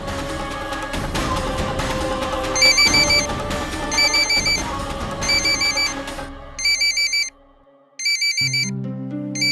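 A mobile phone ringtone repeats its bright, beeping melodic pattern in several bursts over a background score, then continues alone, clear and close.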